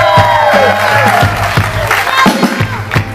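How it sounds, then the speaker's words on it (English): A concert crowd at Yoshi's in San Francisco cheers and whoops, the loud shouts and scattered clapping riding over booming, pulsing bass from the reggae band. "Give her another round of applause."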